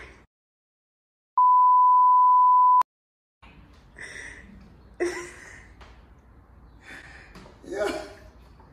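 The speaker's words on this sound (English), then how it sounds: "2 minute timer." A two-minute workout timer sounds a single steady electronic beep lasting about a second and a half, followed by quiet and then close breathing, gasps and movement during an exercise session.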